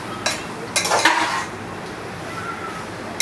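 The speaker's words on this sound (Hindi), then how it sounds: "इसको अच्छी तरह से चला लें ताकि सारे मसाले गोभी में भून जाए" Cauliflower pieces coated in spices are stirred and fried in a pan over high heat, with a few loud scraping, clinking strokes of the spoon against the pan amid a soft sizzle.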